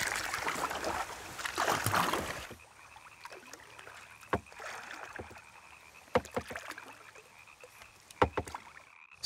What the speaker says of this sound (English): use his homemade kayak to approach them